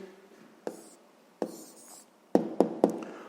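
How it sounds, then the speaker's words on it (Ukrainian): Answer written out by hand on paper, soft scratchy pen strokes broken by a few sharp taps as the pen lifts and lands, heard up close in a quiet room with no speech. "Тепер записуємо відповідь."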